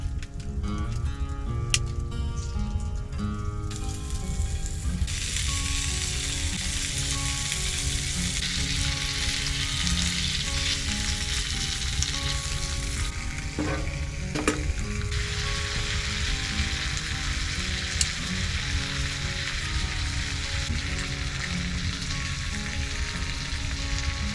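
Bacon sizzles and fries in a hot pan at a winter hot-tent camp at -26C, a dense, continuous crackling hiss that stays close and loud throughout, with a couple of faint clicks partway.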